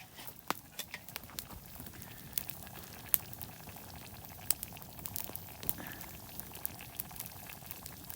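A pot of stew bubbles steadily outdoors over a campfire in a forest, with scattered sharp pops and crackles from the fire over a constant low simmering hiss.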